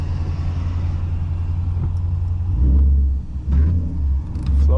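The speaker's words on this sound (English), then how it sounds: "It sound like Flowmasters." A Mustang with a Flowmasters-style exhaust idles with a steady deep rumble, then revs several times in short surges, loud and close.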